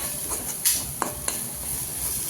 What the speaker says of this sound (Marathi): आता आपण जिरा पावडर आणि सोहना मसाला टाकून घेऊ याच्यामध्ये असं परतून घेऊया